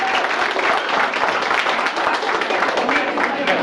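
An audience at a couples' debate show claps in a dense, steady round of applause that holds evenly throughout.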